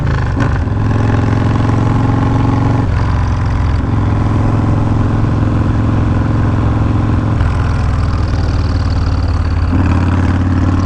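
A Yamaha Road Star Warrior motorcycle engine runs loud and close, a steady deep throb with slight shifts in pitch and no one talking over it.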